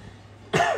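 A single sharp cough bursts out close to the microphone after a moment of near silence, brief and loud, with no talking around it.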